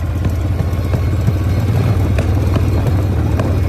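Shovelhead chopper motorcycle with an S&S-style carburetor, FXR hardtail, running steadily with a deep, throbbing low rumble and faint pops from a possible intake boot leak, continuous and close with no talk.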